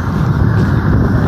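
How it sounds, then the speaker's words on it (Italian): Tramontana wind buffets a handheld outdoor microphone on a cloudy day, making a loud, steady rumble with no voice over it. "un po' di vento di tramontana."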